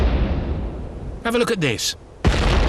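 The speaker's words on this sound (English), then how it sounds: "It's a replica culverin, a 16th century cannon that can fire a 24-pound ball over a mile and can smack through 12 inches of oak." A replica 16th-century culverin cannon, able to fire a 24-pound ball, goes off as one sudden loud blast at the very end, just after someone speaks a short line over outdoor background noise.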